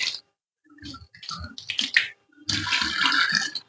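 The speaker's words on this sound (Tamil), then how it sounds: "இந்த ஹோல்ஸ் வழியா ஊத்தும் போது" Warm toilet-cleaner liquid is poured through the small holes of a drain, giving close, splashy gurgling bursts separated by short silences and ending in a longer, steady trickling pour.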